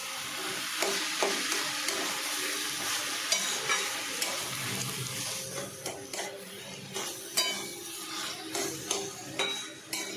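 A spoon stirs and mixes a potato vegetable chop filling in a pan, repeated scraping knocks and clinks over a soft sizzle, growing more rhythmic toward the end.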